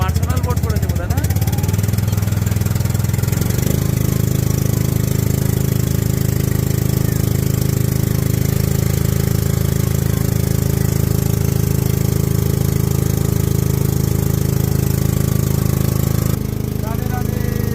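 A personal boat's engine idles steadily and loudly at close range, a constant low rumble that shifts after a start-up moment, with people talking over it.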